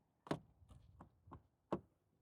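A stuck door is worked at: a few dull knocks and rattles at uneven intervals, faint and close, with no talking.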